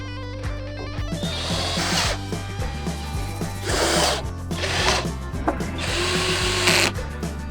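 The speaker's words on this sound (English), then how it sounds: "attach them to the corners and screw them in with small self-tapping screws" Power drill driving small self-tapping screws into metal corners on a floating house platform, repeated whirring bursts with ratcheting clicks and pauses between, close and loud.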